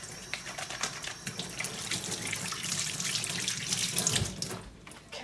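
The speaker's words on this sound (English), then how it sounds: "Gonna rinse my hands really quick before I touch any of my spices." A kitchen tap runs steadily into a sink as hands are rinsed, a close, even splashing stream that thins out near the end.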